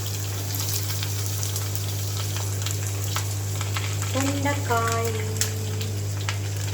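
Ivy gourd pieces fry with dal in a pan, a close, continuous sizzle over a steady low hum, with a short tonal squeak or clatter partway through.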